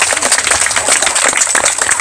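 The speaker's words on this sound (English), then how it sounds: "Give them a round of applause." Steady, loud crowd applause for dancers at a Native American powwow, continuous clapping with no break throughout.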